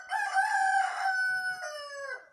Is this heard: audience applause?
no